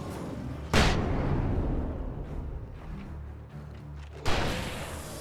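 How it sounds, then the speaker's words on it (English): Flashbang blasts in Alan Wake Remastered: two loud, sharp bursts several seconds apart, each followed by a ringing wash of noise that slowly decays. "I'm gonna use flashbang."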